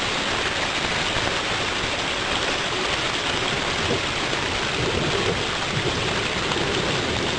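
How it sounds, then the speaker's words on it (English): Heavy water pours steadily into a curb drain during a storm-drain filter test, giving a dense, continuous rushing and splashing noise that holds level throughout. "You can notice the water is still coming down pretty good."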